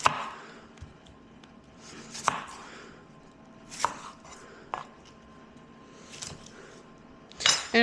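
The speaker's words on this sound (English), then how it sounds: "we're gonna cut up the white onion and the pepper" A knife chops white onion and pepper on a cutting board: scattered, irregular cuts land close and crisp, a few sharper knocks standing out over a quiet kitchen background.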